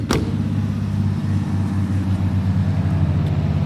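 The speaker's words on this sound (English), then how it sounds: "Let's do a startup. It's not a cold start because I've been driving this one." A warm Honda Acty mini truck engine cranks briefly and catches, then settles into a steady, close, low idle hum.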